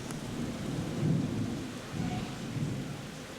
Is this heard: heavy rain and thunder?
yes